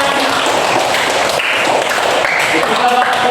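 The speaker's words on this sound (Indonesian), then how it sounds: "Baik, tepuk tangan semuanya." A class of students applauding together, a dense, steady patter of clapping hands that fills the room, loud and close throughout with voices mixed in.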